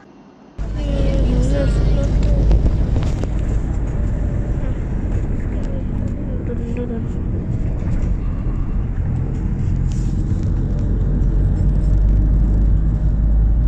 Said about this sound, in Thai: นี่คือบรรยากาศของบนรถตู้นะครับ